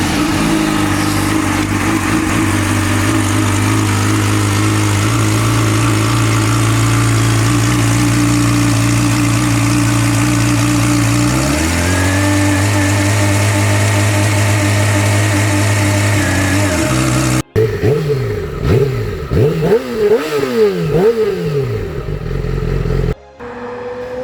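A Yamaha R6 motorcycle fitted with a GYTR exhaust can on stock headers idles loudly and steadily close by, the pitch stepping up midway, then it cuts out and gives a few sharp rising blips of revving.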